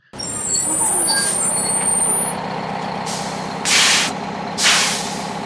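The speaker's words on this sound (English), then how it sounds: "that sound you heard was the brakes on the bus" A bus coming to a stop releases its air brakes, giving several sharp loud hisses in a row over the low idling engine, with a high whine fading out earlier.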